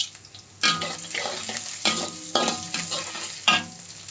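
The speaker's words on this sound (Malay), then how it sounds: "Tumis sehingga garing sikit. Masukkan sedikit bunga lawang." Ingredients with star anise sizzle in hot oil while a spatula scrapes and stirs the pan in several distinct strokes, each stroke bringing a louder burst of frying crackle, close up with no talking.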